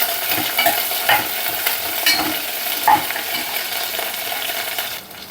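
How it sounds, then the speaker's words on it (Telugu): Chana dal, mustard seeds and curry leaves sizzling in hot oil in a pan while a spoon stirs them, with soft scraping and clinks over a continuous close frying hiss and no talk. "కొద్దిగా పచ్చిశనగపప్పు, కాస్త కరివేపాకు వేసుకొని ఇలా కలుపుకోవాలి"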